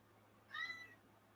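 A pet cat named Pierre gives one short, clear meow in a quiet room, faint background hum around it.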